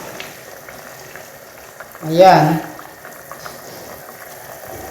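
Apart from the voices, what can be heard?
water added to pan of beef shawarma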